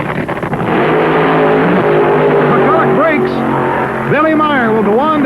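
A 1974 funny car drag race run, a loud, close engine roaring and pitching up and down, with an announcer talking over it throughout.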